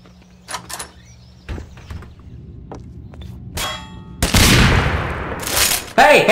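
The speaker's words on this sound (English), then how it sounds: "No explosive bullets. No, that's cheating. It is labeled as a sniper rifle." Metallic clangs and sharp impacts from a sniper rifle firing explosive bullets in Garry's Mod arrive in scattered bursts, then build into a loud, dense run of blasts near the end.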